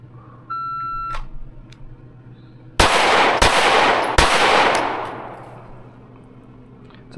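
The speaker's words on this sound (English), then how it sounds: "we are going to draw and fire 3 shots to the body" Three loud, sharp gunshots from a Canik Prime pistol fired on a shooting range during a qualification drill, the first alone and the next two in quick succession, each with a ringing tail; a faint beep sounds before the shots.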